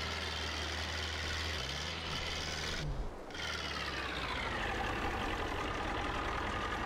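A slow tractor in the Farming Simulator 22 video game runs steadily, its engine giving a continuous rough drone under broadband noise, with a brief dip in the middle before it carries on, and no talking.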